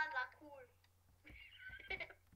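A horse neighs in the Minecraft Skyblock video game on a horse farm. Two brief, whinnying cries, one at the start and one in the middle, are mixed with children's voices.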